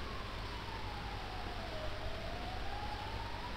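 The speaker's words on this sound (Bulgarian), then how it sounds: "Минава линейка хора." A distant ambulance siren wails steadily, its pitch sliding down and rising again, over a constant low rumble of traffic.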